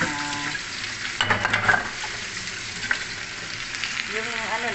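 Onion sizzles and fries in a pan for chicken tinola while being stirred, a steady crackling hiss close by with stirring bursts and no clear talk.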